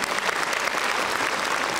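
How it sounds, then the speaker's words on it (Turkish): A dense, steady wash of audience applause fills a hall at a children's book-reading award ceremony, loud and sustained from start to finish with no pauses. "Alkışlarla uğurluyoruz."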